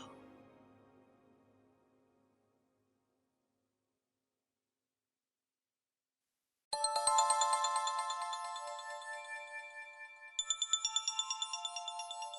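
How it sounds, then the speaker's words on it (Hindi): A mobile phone ringtone plays a bright repeating electronic melody, loud and near after a long silence, with no talking over it. "एम्बर का फोन है।"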